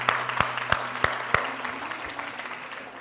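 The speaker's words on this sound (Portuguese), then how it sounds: "Salva de palmas, muito bom, muito bom" A few slow, sharp handclaps from a church congregation, spaced about a third of a second apart, then fading into low background hum.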